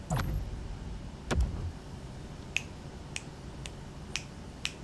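A handful of sharp finger snaps, spaced irregularly, crisp and close against a quiet background with a couple of soft thumps early on.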